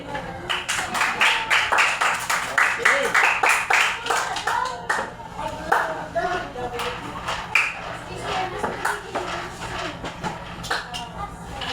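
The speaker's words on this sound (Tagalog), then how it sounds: "So, maaari bang bigyan ng tatlong palakpak ang ating mga sarili?" Schoolchildren in a classroom clap for themselves, quick bursts of hand claps fairly close and loud, with a teacher's voice and background murmur.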